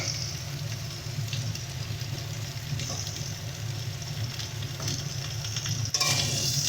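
Vegetables for dudh shukto, a Bengali milk-based mixed vegetable dish, stirred and mixed in a hot pan, giving a steady close sizzle with soft scraping movement throughout and a brief louder clatter near the end.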